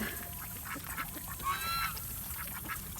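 Ducks quacking in a cluster of short nasal calls, with a brief louder burst midway, over steady outdoor background noise.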